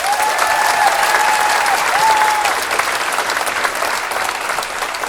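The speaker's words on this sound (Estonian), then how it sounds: "Aplaus!" A dense, loud burst of audience applause at a celebration of a dance studio's many competition wins keeps a continuous wash of clapping going throughout, with a brief tonal voice or whistle near the start.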